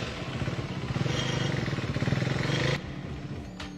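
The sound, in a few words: motorcycle arriving and parking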